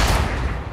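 Dense gunfire and explosions in the First World War trench shooter Verdun, a loud, continuous crackle of rifle and machine-gun shots with heavy low rumbling blasts close by.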